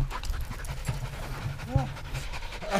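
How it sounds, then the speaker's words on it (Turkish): Hunters breathe heavily after a wild boar hunt, rough repeated panting close by, mixed with a dog's panting and some talk. "Gördüğünüz gibi çok yordu bizi. Hala da nefes nefeseyiz."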